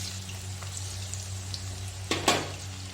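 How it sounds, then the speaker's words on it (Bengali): Onion frying in mustard oil in a pan, a soft steady sizzle with a low hum beneath and a couple of sharper scrapes near the end, fairly faint and close. "এই যে তেলের মধ্যে সর্ষের তেল দিয়ে করছি এই যে পেঁয়াজটা আগে দিয়ে দিচ্ছি"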